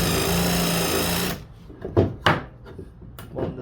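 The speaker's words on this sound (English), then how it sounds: "drill some holes on the side with my spade bit" A steady mechanical whir of a power drill with a spade bit boring into wood runs for over a second, then stops, followed by a few sharp knocks and scrapes of wood.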